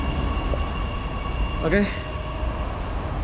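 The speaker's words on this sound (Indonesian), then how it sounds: "LRT-nya udah sampai." A Jakarta LRT train pulls into a station on an elevated line, a steady rumble with a brief squeal of brakes midway, heard amid platform ambience while a person speaks briefly.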